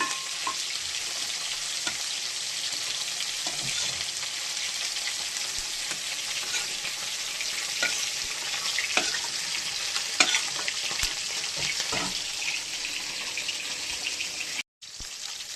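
Prawns sizzle and crackle steadily in hot oil in a pan, a continuous close frying hiss with small pops and utensil clinks, briefly cutting out near the end.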